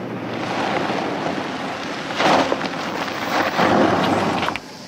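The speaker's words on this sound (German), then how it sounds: "Verdammt, haben Sie den Donner erwischt." Thunder during a storm: distant rumbling rolls swell twice over a constant wind-and-rain wash, each roll building and fading, with no speech.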